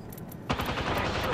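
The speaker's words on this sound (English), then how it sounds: "They're shooting at me." Enemy gunfire in a sci-fi shooter video game: after a short lull, a sharp burst of rapid shots starts and keeps rattling steadily, fairly faint in the mix.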